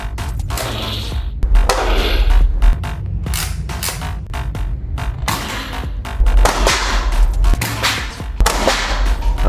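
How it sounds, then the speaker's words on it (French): A Nerf Aliens M41-A toy blaster is pumped and fired repeatedly, giving sharp close snapping bursts and rattles in an uneven rhythm against a low hum, with no talking. "on a le petit bruit de tir du pompe ici"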